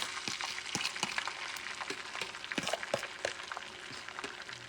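Egg frying in a pan over medium-high heat for a cod Spanish omelette, a close, dense sizzle with irregular crackling pops throughout.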